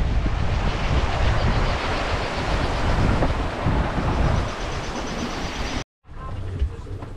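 Strong wind blows at sea aboard a sailboat heading to Gibraltar, roaring loudly across the microphone with the wash of waves beneath, then briefly cutting out before the gusty rush resumes.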